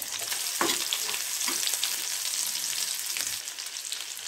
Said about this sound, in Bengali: একটু কড়া করে ভাজতে হবে।